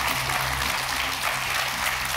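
A studio audience on a German television show claps enthusiastically, a dense, even burst of applause with a low background hum beneath it, steady and fairly loud for the whole brief moment.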